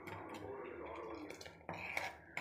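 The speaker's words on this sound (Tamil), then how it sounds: "கலந்து விட்டு கிண்டிக்கிட்டே இருக்கணும்." A spoon scrapes and clinks against a metal pot while rasam with rasam powder is stirred, a steady close scraping with a few sharper knocks near the end.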